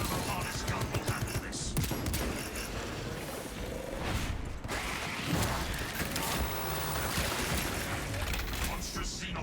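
Rapid, dense bursts from a Tarantula sentry gun in a video game crackle continuously and loud, with mechanical clatter and brief pauses between volleys.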